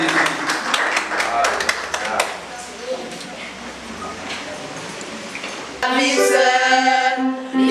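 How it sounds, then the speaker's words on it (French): Scattered clapping from guests at a Haitian wedding welcoming a music group, sharp individual claps that thin out, followed by louder tonal sound at the end. "Je vous prie une fois de plus d'applaudir chaudement l'arrivée du"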